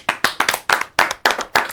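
Hands clap in a steady, rhythmic series of about seven sharp, close, loud claps, spaced evenly with no talking.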